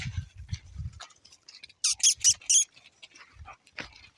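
Three dogs met along an off-road cycling trail, giving a few soft low woofs and then a quick run of sharp high yelps or whines, near and intermittent amid quiet outdoor rustling.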